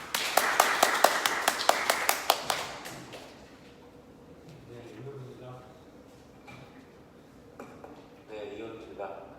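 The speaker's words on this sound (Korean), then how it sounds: "박수 부탁드립니다" Brief applause at a policy debate forum on improving small and medium business policy-finance support: sharp, closely spaced claps for about three seconds, then fading into a quiet room with faint murmuring voices and scattered soft movement sounds.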